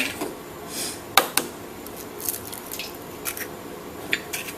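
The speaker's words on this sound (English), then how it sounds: "then you're going to crack your 4 eggs" Four eggs cracked one after another into a bowl: a few sharp taps and cracks with soft wet drips and squishes between them, close and fairly quiet over a low room hiss.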